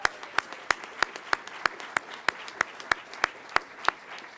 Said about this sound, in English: if you wouldn't mind joining me in a round of applause for your family members here today